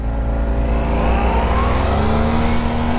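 A Yamaha T-Max 560 2020 scooter and a Yamaha MT-07 motorcycle accelerate hard side by side in a straight-line drag duel, their engines droning loud and close with pitch climbing steadily.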